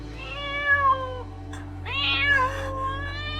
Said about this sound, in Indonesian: Tolong Maya, jangan biar kucing di sini.